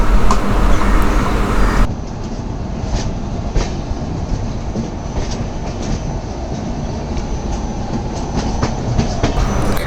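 Tirumala Express rolling along the rails near Rajahmundry, a steady loud rumble with rhythmic clickety-clack of wheels over joints, carrying on without pause and shifting to a slightly quieter, more even roar after the first couple of seconds.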